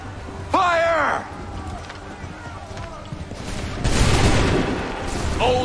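A musket volley fired by a line of soldiers in Assassin's Creed III, a broad crackling burst of gunfire late in the clip, preceded by shouted commands and a voice calling out.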